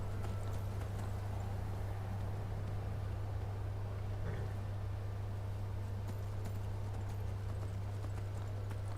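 Horse hooves clip-clop steadily in Skyrim, a continuous rhythmic trot under a constant low hum, with faint game ambience and no clear neigh standing out.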